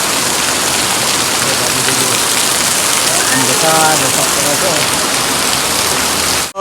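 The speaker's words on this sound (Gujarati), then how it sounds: "વરસાદ તો ધમધોકાર ચાલુ છે" Heavy rain pours steadily in a dense, unbroken hiss, loud and close, with a brief muffled knock near the end.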